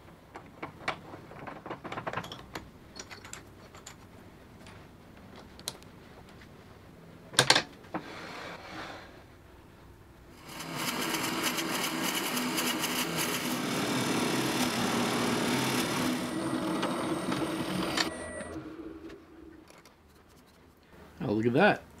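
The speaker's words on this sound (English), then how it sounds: "I'm going to take this Forstner bit and drill out the inside." A person talks over scattered clicks and a sharp knock, then a drill with a Forstner bit bores steadily into a burl wood piece for about eight seconds, whirring loudly before winding down.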